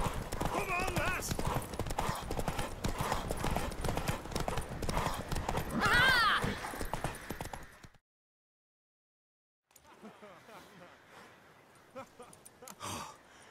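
A horse gallops in a race in The Witcher 3, with fast rhythmic hoofbeats, a brief whinny and voices shouting over them. Everything drops to silence for a moment, then fainter hoof sounds return.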